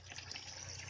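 Water running steadily as buffaloes drink from a village canal, a continuous faint gushing, trickling flow with no pauses and no voices.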